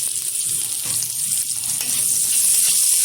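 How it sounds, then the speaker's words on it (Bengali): A large chopped onion fries in hot oil for a hotel-style egg curry, giving a loud, continuous close sizzle with faint stirring scrapes underneath. "এখন এই তেলের মধ্যে দিয়ে দেবো টুকরো করে রাখা বড় সাইজের একটা পেঁয়াজ।"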